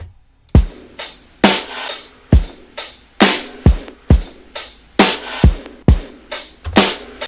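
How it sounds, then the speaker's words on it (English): A solo drum pattern with punchy kicks and sharp snare hits in a steady, moderately paced groove, loud and close with nothing else playing. "Yes, let's start with the drums."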